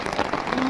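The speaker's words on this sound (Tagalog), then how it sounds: "Yung inabutan po tayo ng ulan dito." Rain falling steadily outdoors during a relief outing in Kalinga, a dense close patter with a voice faintly underneath.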